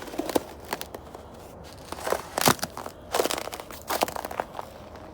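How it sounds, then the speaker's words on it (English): Crunching steps on brittle, hollow ice, several crisp cracking crunches spaced unevenly, close and fairly loud with quiet gaps between. "Crunchy, hollow ice."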